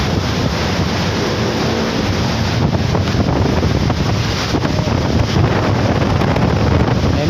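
Loud, relentless typhoon wind roars and batters the microphone, a thick broadband rush that never lets up.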